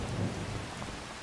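Steady rain patters in a farming video game, with a soft low rumble like distant thunder near the start, all fairly quiet and without voices.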